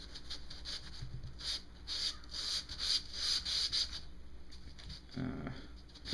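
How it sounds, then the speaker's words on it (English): Clutch plates from a 1985 Kawasaki VN750 engine rebuild are rubbed in circles over a lubricated abrasive surface to deglaze them, a steady close rasping scrub in repeated strokes with a brief pause near the end. "I'm just gonna take my plates and rub them around on there"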